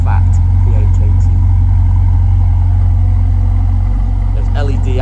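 Ferrari 488 GTB supercar, a 2017 model with 660 bhp, sits idling close by with a loud, steady deep engine burble throughout, a voice faintly present over it.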